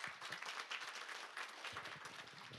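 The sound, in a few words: audience applause for a forum participant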